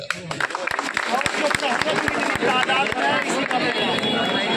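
Crowd applauding at a gathering, dense rapid clapping with loud sharp claps near the microphone, mixed with crowd murmur and a voice talking over it throughout.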